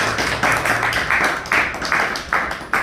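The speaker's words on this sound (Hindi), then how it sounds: "से श्री खाटू श्याम मानव जन सेवा वेलफेयर सोसाइटी में पधारे हुए मेहमानों का सबसे पहले तालियों से स्वागत कीजिए" A crowd at a Shri Khatu Shyam Manav Jan Seva Welfare Society gathering claps to welcome guests, the hands striking together in several loud, rhythmic bursts.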